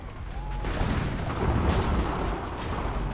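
Sustained barrage of incoming gunfire and cannon fire in the video game Assassin's Creed 3, a dense, rumbling wash of booms and crackling shots that swells and holds loudly for several seconds, with no speech.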